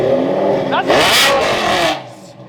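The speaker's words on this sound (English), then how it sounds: "this car is kind of sort of loud, ever so slightly." A Lamborghini Super Trofeo Stradale supercar engine revs loudly and close, the pitch climbing in a sharp surge then holding a roaring blare before dropping away, with voices over it.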